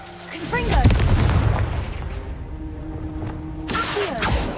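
Spell-casting blasts from the Hogwarts Legacy video game, fire and ice spells going off in loud booming bursts with crackling impacts, a short lull, then another blast near the end, with a voice calling out spell names over them.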